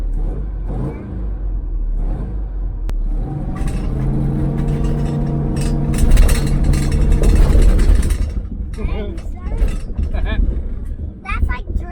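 A long-dormant Starliner car's engine, smoking and with rings not yet seated, builds from idle into a loud, rising rev and rumble for a launch, with people talking over it.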